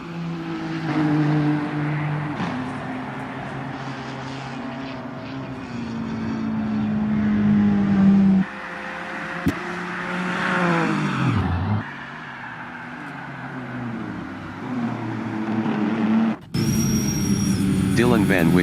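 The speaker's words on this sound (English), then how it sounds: "Keane goes as 7th driving a BMW." A BMW production race car circuit racing in a 2023 SRA production-car round, its engine droning steadily with rising and falling pitch as it shifts and brakes, while a commentator talks over it throughout.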